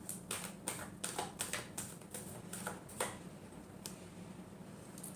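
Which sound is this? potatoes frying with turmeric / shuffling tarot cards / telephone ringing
shuffling tarot cards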